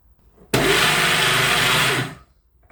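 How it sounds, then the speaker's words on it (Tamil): An electric mixer grinder whirs loudly as it grinds coconut and chillies with lemon, starting abruptly and running at a steady high-pitched roar for about a second and a half before cutting off. "இப்போ இதில் கொஞ்சமாக தேங்காய் பூவும் சேர்த்துட்டு அரைப்போம்"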